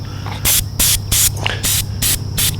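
Airbrush spraying paint onto a foam model, driven by an air compressor at 50 pounds. It comes in six or seven even, loud hissing bursts about a third of a second apart, over a steady low compressor hum.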